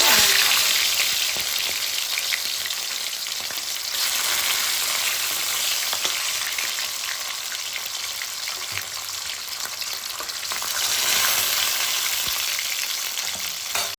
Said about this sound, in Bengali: তেলটা গরম হয়ে গেছে, মাছটা দিয়ে দিলাম